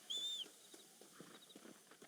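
In the Red Dead Redemption video game, a horse's hooves clip-clop faintly at walking pace, soft irregular knocks heard alone after a brief high whistle-like tone at the start.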